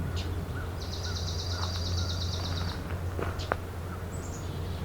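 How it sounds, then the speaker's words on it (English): A swamp sparrow sings in a swamp, a rapid even trill of repeated notes carried over steady background hum, with a few other faint bird chirps scattered around it. "There's the swamp sparrow again."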